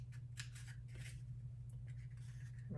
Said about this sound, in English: this is where my little scissors can come in handy